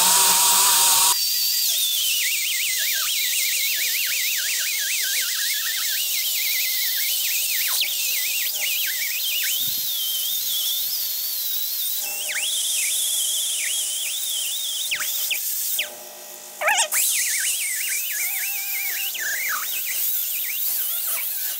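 Angle grinder working the flat steel panel of a 1960-66 GMC/C10 truck cab, a loud, continuous high-pitched whine that wavers in pitch for about twenty seconds with one brief dip near the end.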